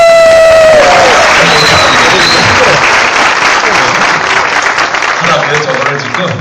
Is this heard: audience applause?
yes